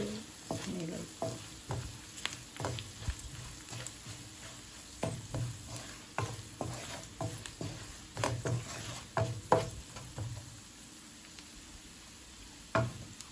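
Whole cumin and fenugreek seeds fry in a pan with a soft continuous sizzle, broken by regular light scraping and stirring taps that repeat steadily throughout at close range.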